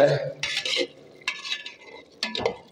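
Boal fish curry being stirred and sautéed in a pan, with three short bursts of a utensil scraping and clattering against the pan separated by quiet pauses, and a faint sizzle beneath.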